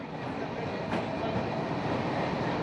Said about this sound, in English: Kuldeep Singh waits for his train sitting on platform number 2 at Bathinda railway station